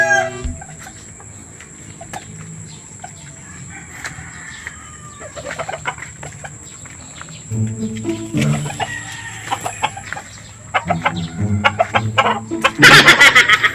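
Chickens cluck and call behind a house, with a rooster-like burst near the end and scattered bird sounds throughout.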